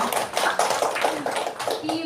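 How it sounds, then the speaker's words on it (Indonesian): An audience at a moderated discussion session applauds with dense, steady clapping from many hands for the whole short stretch, with a voice partly audible over it. "mari kita berikan tepuk tangan yang sangat meriah"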